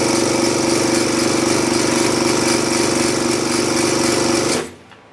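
A high-pressure compressor for PCP air rifles and paintball fills an air tank with a loud, steady mechanical chugging drone, then shuts off abruptly near the end, leaving quiet.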